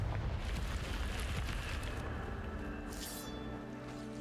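Confringo spell blast in a Hogwarts video game, a dense rumbling burst that rolls on and slowly fades, with a brighter crackling flare near the end, no talking.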